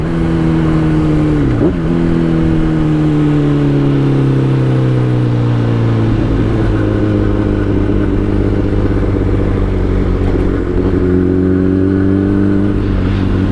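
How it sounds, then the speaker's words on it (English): A Kawasaki ZX-10R sport motorcycle roars loud and close, blipping its throttle on downshifts so the pitch jumps and falls between gears, then holds a sustained high-revving drone without pause. "Let's hear that sexy downshift."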